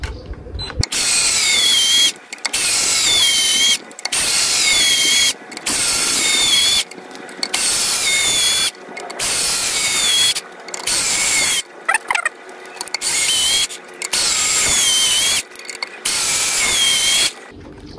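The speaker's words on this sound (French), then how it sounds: "Écoute, pour l'instant elle est très chaude, mais elle continue d'avoir du couple." Cordless screwdriver driving a one-metre screw into wood: repeated loud whining bursts of motor and ratcheting drive, each lasting about a second or two, separated by short pauses.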